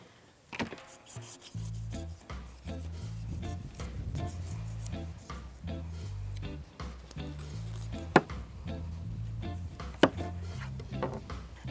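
A knife works at the fins of a blacktip shark with repeated scraping and chopping strokes, fairly faint and close, over a steady low hum with a few sharper knocks.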